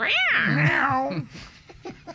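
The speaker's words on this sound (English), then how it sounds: "If my neighbor's cat doesn't shut the F up" A neighbor's cat lets out a loud, drawn-out meow that bends up and down in pitch, followed by a few short, fainter yowls and breathy sounds, close to the microphone.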